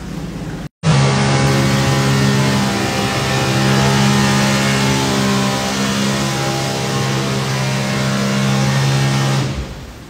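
A jet ski engine revs at full throttle in a test tank, a loud, sustained mechanical roar that kicks in sharply after a brief silence, holds steady for several seconds, then cuts off.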